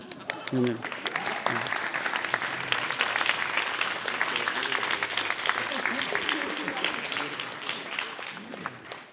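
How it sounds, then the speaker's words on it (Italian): Audience applause at the close of an Italian talk event, a steady dense wash of clapping sustained throughout, with a few brief voices breaking through near the start. "Un altro applauso e andate in pace."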